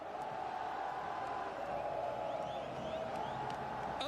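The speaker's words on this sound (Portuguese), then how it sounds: "André pede o grito da torcida do Vasco no Maracanã." Vasco supporters chanting in unison at Maracanã stadium during a Fluminense vs Vasco Brasileirão 2013 match, a steady, distant roar of crowd singing, sustained and even throughout.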